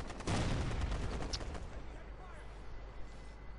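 Gunfire erupts in the video game Ghost Recon Future Soldier: a loud burst of rapid shots hits up front, then the shooting fades into quieter, scattered reports and rumble.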